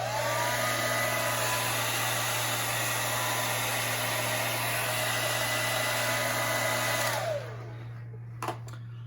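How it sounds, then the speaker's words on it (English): A hair dryer blows loudly and steadily for about seven seconds, then switches off and winds down, leaving a quiet room with a couple of faint clicks. "Let's do another blow dryer test."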